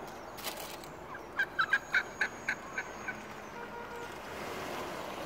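A short run of about eight wild turkey gobbles rings out at moderate distance on Staten Island, rapid and rising then fading, over a steady outdoor background rush.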